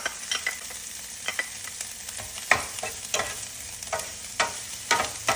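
Onions and pepper sizzle in hot oil with popped mustard seeds, a steady frying hiss broken by repeated sharp clatters of stirring against the pan, close and loud.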